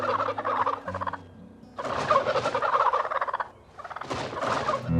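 Turkey gobbling in three loud, rapid rattling bursts separated by short pauses, close and clear with no talk.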